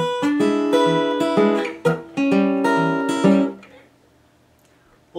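Plucked acoustic guitar notes sound in quick succession, thumb and finger pinching the 4th and 3rd strings so pairs ring together in a short fingerpicked blues pattern, then fading into near silence.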